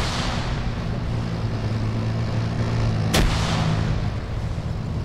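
A grenade goes off in the Arma military video game, a single sharp blast just past the middle that cuts through a steady engine-like hum.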